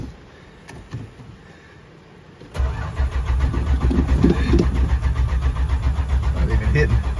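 A 1980 Chrysler Cordoba being cranked, its engine turning over steadily without catching for several seconds after a click, loud and close, with some brief talk before the cranking begins.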